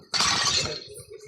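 Glass shatters in one sudden, loud crash that breaks into scattered tinkling fragments and quickly dies away, with no voices.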